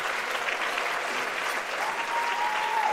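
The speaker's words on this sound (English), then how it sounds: "Please give them a round of applause." Steady applause from an awards-gala audience thanking corporate sponsors, a dense, continuous clatter of many hands clapping at an even level throughout, with a faint tone rising near the end.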